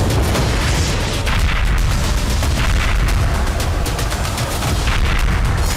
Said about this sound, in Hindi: एक बम धमाके में पेट्रोल पंप को उड़ा दिया गया